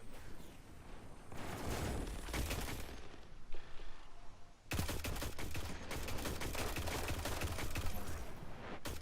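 Destiny 2 gunfire from a sidearm and an SMG sounds in rapid, dense volleys of shots, steady and continuous with a brief lull near the middle, with no talk.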